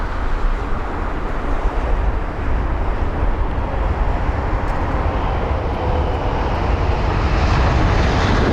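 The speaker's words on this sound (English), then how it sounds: "that is the 787-8 Dreamliner actually" A Boeing 787-8 Dreamliner at London Heathrow at sunset, a loud steady broadband jet engine roar heard from fairly close, with no break for the whole stretch.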